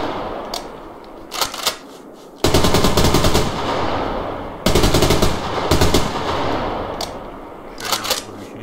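Automatic gunfire in the online shooter Survarium comes in loud, rapid bursts: two long sustained volleys split by a few short shots and quieter gaps.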